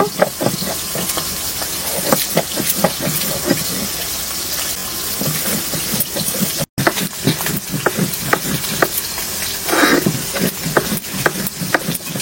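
Fish pieces fried in a pan during village cooking by Santali women, with a dense, loud, continuous sizzle and crackle plus scattered clinks and scrapes, briefly cutting out midway.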